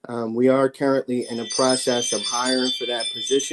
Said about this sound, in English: Excuse my ring doorbell.